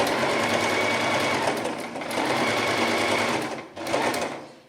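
A sewing machine runs a straight stitch about 3 to 3.5 wide while sewing a pair of slippers. It whirs steadily and loudly, pauses briefly near the end, then starts again.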